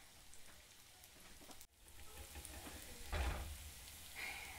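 Sausages frying in a pan, giving a faint, steady sizzle and crackle with a brief dropout and a louder burst of spitting partway through, alone without talk.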